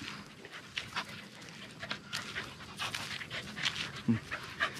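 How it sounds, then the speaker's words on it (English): A dog pants quickly and steadily at close range, with short breathy bursts and a few faint whimpers, while someone speaks softly nearby. "hey doggy how are you hmm? yes yes you want to play"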